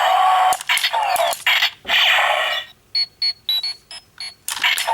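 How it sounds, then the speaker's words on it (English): A Power Rangers Deluxe Q-Rex/Samurai Zord toy communicator plays a burst of electronic chirps and sweeps, followed by a string of short, evenly spaced high beeps. "And you got your communicator beep as well."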